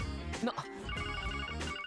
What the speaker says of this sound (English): Waiting for that phone call once we enter the city